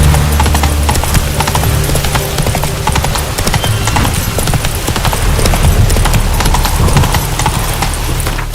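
Roach, Geralt's horse in The Witcher 3, runs with steady, rapid clip-clop hoofbeats over a loud continuous game backdrop, a brief whinny in the mix, for the whole stretch.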